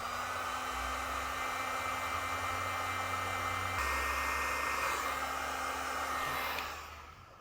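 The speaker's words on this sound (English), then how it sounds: "with the heat shrinks, we'll come back with our heat source and seal them up" A heat gun blows steadily to shrink heat-shrink connectors on trailer wiring for a 2022 Jeep, a continuous close airy roar with a low hum that shifts slightly midway before cutting off near the end.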